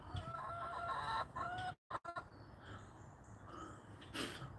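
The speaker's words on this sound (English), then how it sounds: "the chickens eat most of the weeds where they have access to" Chickens cluck and call around a yard where they forage on weeds, a steady scatter of hen sounds close by with a brief dropout midway and a sharper call near the end.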